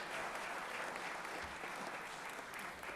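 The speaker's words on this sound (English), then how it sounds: "let's give Megan Brass a round of applause" Steady round of applause in the Georgia State Senate chamber, even and continuous with no break, heard from some distance at a moderate level.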